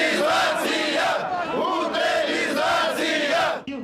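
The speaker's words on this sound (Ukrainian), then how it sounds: "А ці люди вигукують слово схоже на люстрацію. Утилізація!" A protest crowd outside the Ukrainian parliament chants a single word in rhythmic, repeated shouts, loud and massed, the voices rising and falling in unison.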